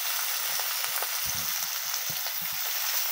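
Dried fish with onion greens and coriander leaves sizzles steadily in a frying pan, with soft repeated scraping and stirring knocks from a spatula over the constant hiss.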